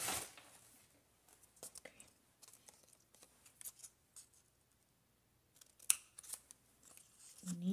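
Scissors snip paper while a collage is being made, a scattered series of quiet close cuts with pauses between, one sharper snip near the end, and soft voices murmuring faintly in the background.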